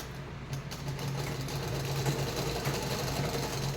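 A sewing machine runs steadily, stitching a folded fabric collar with a continuous mechanical hum and whir throughout, alone at moderate volume.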